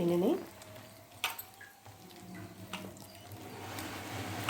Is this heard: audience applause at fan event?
no